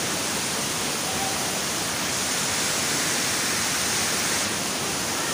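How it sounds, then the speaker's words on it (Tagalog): Kasabangan waterfall in Cabucgayan, Biliran roars as a dense, steady, loud rush of falling water, filling the whole stretch without any break or change. "Saan makikita natin ang kabuuan ng falls."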